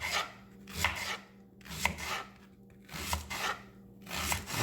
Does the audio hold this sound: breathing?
no